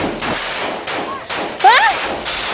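A staged skit gunshot sounds as a few sharp, wide bangs spaced through the moment, mixed with shouting voices and a high cry near the end.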